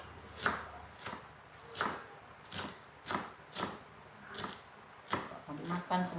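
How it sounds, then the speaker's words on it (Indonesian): A knife finely chops food on a board while a kwetiau dish with chicken and beef and fish meatballs is prepared, giving about a dozen crisp, fairly regular knocks at close range, with a voice speaking softly in places. "Ini kita potong halus biar enak dimakan."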